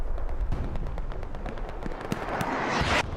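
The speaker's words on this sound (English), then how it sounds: "Friendly grenade popping on over." A friendly grenade detonates in a 49 vs 49 match on the Kharkov map of a multiplayer war shooter, a sharp blast cutting through constant crackling gunfire and distant explosions.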